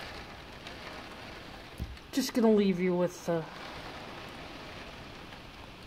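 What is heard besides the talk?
rain falling outside a window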